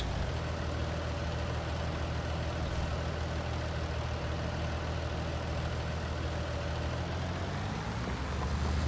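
Tractor engine in Farming Simulator 19 during contract plowing work on a hill, a steady, loud low drone running continuously throughout with no voices.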